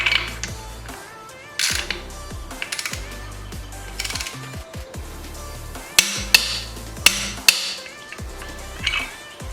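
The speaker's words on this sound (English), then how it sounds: "Now for the bolt here inside the swing arm, we're going to torque that down to 50 foot-pounds." Metallic clanks and ratcheting clicks come from a wrench tightening the swing arm bolt on a Yamaha YZ125 motorcycle. The taps are close, sharp and irregular, spread over several seconds.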